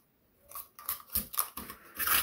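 A homemade hot-wire cutter slices through thermocol, giving faint, uneven crunching and snipping scrapes that come in quick irregular bursts, close by and quiet.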